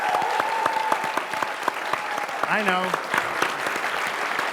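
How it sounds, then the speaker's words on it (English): A game-show studio audience applauds contestant Jade with dense, close clapping that runs throughout, while a voice speaks briefly over it. "Ladies and gentlemen, big round of applause for Jade."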